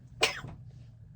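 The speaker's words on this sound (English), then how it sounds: "That sneeze made my eye twitch." A single sharp sneeze bursts out indoors, close and abrupt, with a short breathy tail, followed by quiet room tone.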